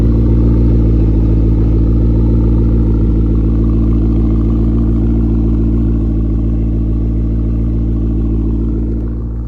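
A McLaren P1 fitted with a new titanium exhaust revs loudly and close, its deep, steady engine rumble holding strong for several seconds before easing off slightly at the end.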